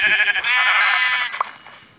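A sheep in a survival video game gives one loud, close, wavering bleat lasting over a second, followed by faint clicks.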